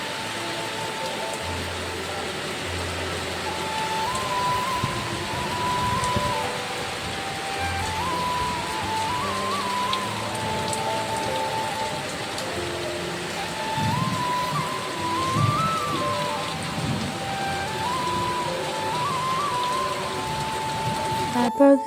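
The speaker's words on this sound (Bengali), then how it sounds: "জোরে বৃষ্টি আসার শব্দ পেলাম" Heavy rain falling outside a village house, a steady hiss of downpour heard through an open doorway, with a faint melodic tone drifting over it for much of the time.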